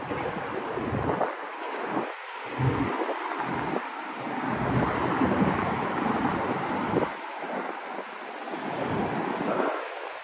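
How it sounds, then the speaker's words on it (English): Wind blowing outdoors at night in downtown Miami, a steady roaring gust buffeting the microphone with swelling and easing surges throughout, loud and continuous with no talk. "It is windy."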